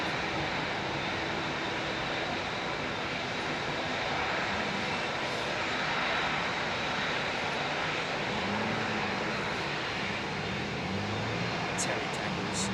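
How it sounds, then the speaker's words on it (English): An Etihad Airbus A380 airliner at London Heathrow, its engines giving a continuous broad roar that stays steady, with faint voices murmuring in the background. "Etihad's relatively newly returned service on their 380"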